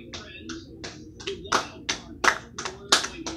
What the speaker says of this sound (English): Applause for these three sports champions.